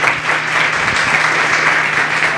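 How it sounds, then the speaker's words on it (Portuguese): Church congregation clapping in praise at a worship service: a dense, steady wash of many hands applauding close by, sustained evenly throughout without talk. "louve ao Senhor com as suas palmas"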